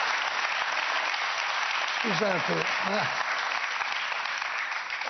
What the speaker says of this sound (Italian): voi applaudite a una crudeltà mentale